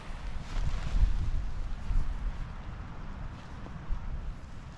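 Gale force wind buffeting a lightweight LANSHAN 2 hiking tent, a continuous low rumbling roar with gusty surges, close to the microphone and without talking.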